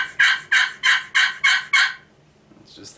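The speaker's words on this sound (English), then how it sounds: "This is actually called a little deuce double glass call, and it has a lot of real great tone to it." Six evenly spaced raspy yelps from a Little Deuce double glass turkey friction call worked with a carbon striker, loud and close, followed by a short pause and a faint higher squeak.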